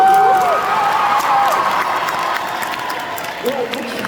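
A crowd at the Art to Play 2025 convention claps and cheers together, a loud, continuous wash of hands with scattered whistles and shouts rising out of it.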